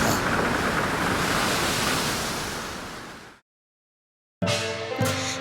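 Animated seaside scene with wind and ocean waves: a steady, loud roar of surf and gusting air that fades out, falls silent for a second, then gives way to other sounds.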